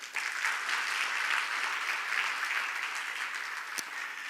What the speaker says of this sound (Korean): 우리 한번 자축의 박수를 치도록 할까요?